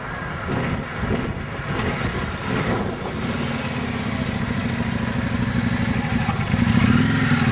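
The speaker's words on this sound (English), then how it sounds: "Lovely smooth bike." A Yamaha Virago Star motorcycle rumbles steadily while riding, its engine drone loud and continuous with a slight rise toward the end.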